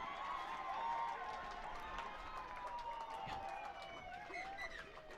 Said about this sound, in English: We didn't hear the hooter there because the cheer was huge down there from the sideline.